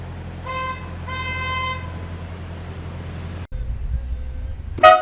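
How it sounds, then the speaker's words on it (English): Car horns honk near a canal bridge: a long steady toot followed by a second sustained blast, then a short higher beep, over a constant low engine rumble with no talk. "Whenever cars beep crossing the bridge, Dad likes to beep back."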